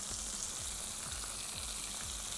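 Fish and vegetables fry in oil in a pan, seasoned with salt and pepper, giving a steady, close, even sizzle that runs unbroken throughout with no talking.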